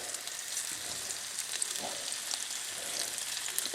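Italian sausage frying in virgin olive oil in a pan, a constant close crackling sizzle with light popping and a few faint utensil touches, no talking.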